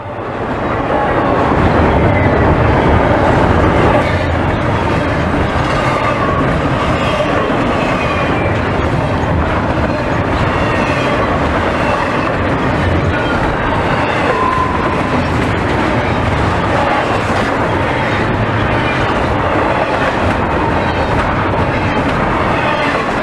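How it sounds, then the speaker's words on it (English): A Norfolk Southern NS-22V intermodal freight train rolls past, its steady broadband rumble and rail noise sustained and loud for the whole stretch, with faint clicking of wheels over joints. "NS-22V is a daily intermodal train from Harrisburg,"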